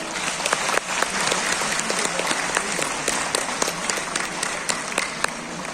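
Audience applause at an LIC event in Science City, a steady, dense wash of many hands clapping close by with scattered sharper claps, sustained without a break and no clear talk over it.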